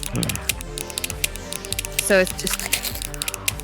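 A pen is clicked over and over in quick, sharp ticks, close to the microphone, running under someone talking throughout with dense overlapping sounds.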